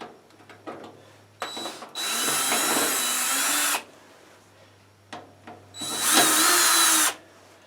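A power drill backs screws out of a 240-volt wall thermostat for a 6000-watt shop heater: two loud, close bursts of whirring, each about two seconds, with light handling clicks between them.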